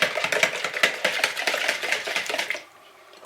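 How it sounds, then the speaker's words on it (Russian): A wire whisk beats egg into kefir in a bowl, giving fast, rhythmic metallic ticks and clatters that run steadily and close for a few seconds before stopping abruptly. "добавляем яйцо. Венчиком немного взбиваем."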